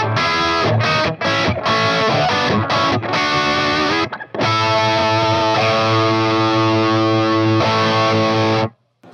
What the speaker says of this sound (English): It's called the MT15. It's a Mark Tremonti 15-watt amp.